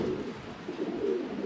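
Pigeons in a loft, including racers and Pakistani high-flyers, keep up a steady low cooing from several birds at once, overlapping and fairly close.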